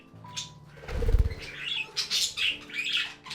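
A baby budgie being fed by its parent in an aviary gives rapid, thin, insistent chirps with soft fluttering and a low thump, close up and with no voices.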